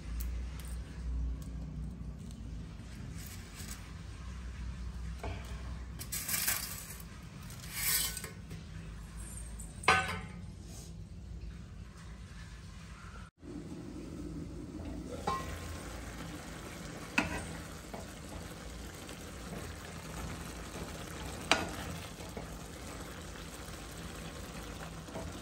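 Maggi noodles sizzle in a pan while being stirred, a steady hiss with occasional scraping strokes and clinks, close and moderate in level, continuing throughout with a brief dip partway.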